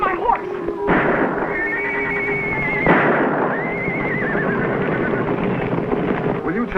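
A horse whinnies in a long rising and falling call, then neighs again, with background clatter and noise throughout, from a 1950s TV Western.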